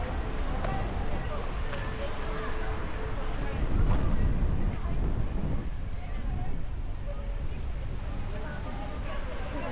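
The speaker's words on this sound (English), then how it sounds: "it's so windy" Gusty wind buffets the microphone in a continuous low roar at San Francisco's Palace of Fine Arts, swelling briefly midway, with faint background activity underneath.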